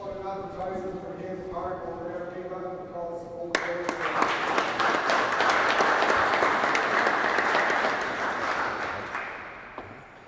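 Applause breaks out from the audience at an All-Ireland hardball handball championship match, following speech, then a dense, sustained wash of clapping that swells and slowly fades.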